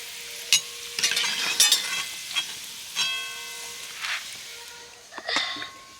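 Homemade raw potato kurkure snacks frying in hot oil, giving a steady close sizzle broken by a few sharp stirring clinks and scrapes, with no talking.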